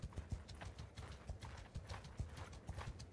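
Horse hooves clopping in a quick steady rhythm while riding in Mount & Blade 2 Bannerlord, faint and continuous, with no talk over it.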